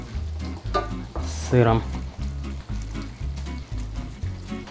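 Carbonara sauce with egg sizzles and crackles steadily in a hot pan, a close, continuous fry that keeps going while a person speaks briefly over it.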